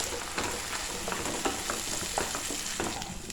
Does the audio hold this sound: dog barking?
no